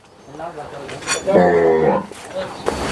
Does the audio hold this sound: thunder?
no